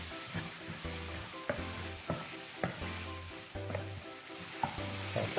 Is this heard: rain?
no